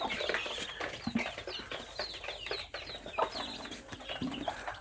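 Many three-day-old Tiger breed chicks on a small poultry farm cheep and cluck constantly in a dense, overlapping chorus, faint and steady with no talk over it.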